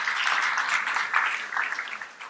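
A church congregation applauds together in a sustained burst of hand claps that stays fairly even and then tapers off slightly at the end.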